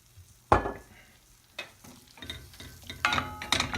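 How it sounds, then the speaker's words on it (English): Onions and cherry peppers in olive oil being stirred in a cast iron pan: a sharp scrape at the start, then a few more utensil scrapes and clatters over a quiet sizzle close by. "Stir these up a little bit and let them continue to cook"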